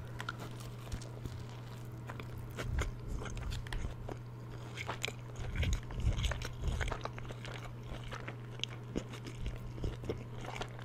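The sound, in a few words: biting and chewing a burger with crispy bacon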